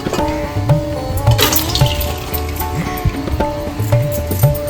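Par-cooked rice and its cooking water pour into a colander for mutton biryani, a steady loud splashing and draining rush lasting the whole moment, with no talk over it.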